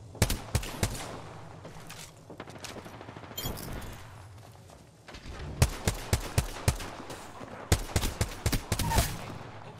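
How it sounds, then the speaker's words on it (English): Gunfire from a G7 Scout rifle in a video game, sharp loud shots, some single and some in quick clusters, with quieter gaps and distant battle noise between. "Opening fire on the enemy."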